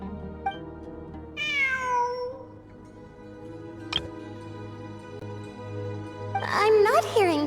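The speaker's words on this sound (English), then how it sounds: "It really is a cat." Cat meowing in Genshin Impact, one drawn-out meow followed later by another higher, wavering cry, fairly close and clear over a faint background hum.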